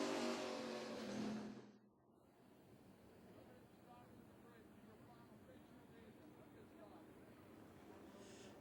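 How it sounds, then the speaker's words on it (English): Sportsman race cars roar loudly on the track at Virginia Motor Speedway for about two seconds, then the sound drops to a low, distant hum while talk continues. "Sportsman drivers are on the racetrack now."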